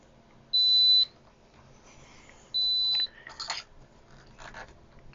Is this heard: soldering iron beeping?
yes